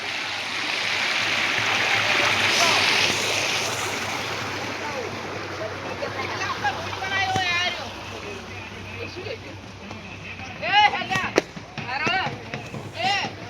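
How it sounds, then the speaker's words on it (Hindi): Rushing water from a waterfall near Dantiwada makes a steady, fairly loud broadband roar. People talk over it. "यहाँ पर झरना पड़ रहा है।"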